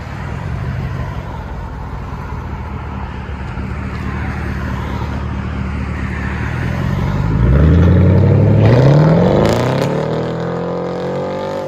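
A Chevrolet Camaro with an X-pipe delete exhaust rumbles loudly at close range, then revs up in one rising roar that holds briefly before settling back to a deep idle.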